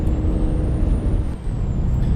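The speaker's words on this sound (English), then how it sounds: "the truck sounds are really, like, really loud, actually" Air brake hiss from a new Freightliner Cascadia truck in a trucking simulator game, a loud continuous release of air over a rumbling idle engine, with a faint high tone running above.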